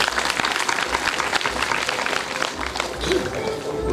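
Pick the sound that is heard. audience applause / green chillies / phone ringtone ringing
audience applause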